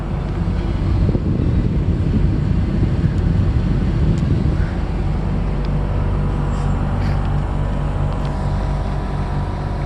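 A 1996 Chevy C1500 pickup's adjustable ride-height suspension raises the truck to its full height, giving a steady low droning hum that holds for several seconds under rushing outdoor wind noise.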